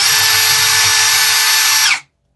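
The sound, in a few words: Keelat KCD011 drill running at speed 1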